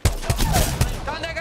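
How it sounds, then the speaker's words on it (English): Short burst of gunfire in a shooter video game, a few sharp shots in quick succession at moderate volume, blended with game noise and some background voice. "I'm taking fire"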